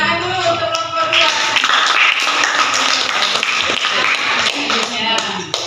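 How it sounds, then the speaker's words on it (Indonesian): A classroom audience applauds a student group after its presentation, a dense, steady patter of many hands clapping close by for several seconds. "kita tepuk tangan dulu untuk kelompok 2"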